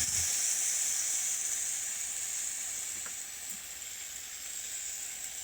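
A spice paste of ground chilli, turmeric, cumin and coriander hits hot oil in a pan and sizzles as a steady, bright, hissing fry that eases slightly over a few seconds, close and with no talking.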